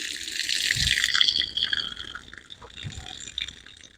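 Water spills and splashes from a hose reel connection, a steady hissing gush that fades and trickles unevenly as the flow is shut off.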